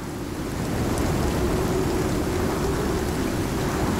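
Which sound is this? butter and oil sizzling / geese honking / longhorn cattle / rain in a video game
rain in a video game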